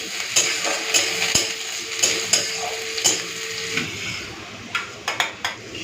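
Onion, green chilli, dried chilli and crushed garlic fry together in a pan, with a steady sizzle broken by several sharp scrapes and clinks of a spatula stirring against the metal. No one speaks.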